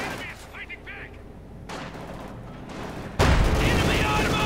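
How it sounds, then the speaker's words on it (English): High explosive shells fire and burst in a Company of Heroes 2 battle, a series of booming gunfire-like blasts that swell to a loud, sustained roar near the end, with a Panzer IV nearby. "High explosive shells firing in"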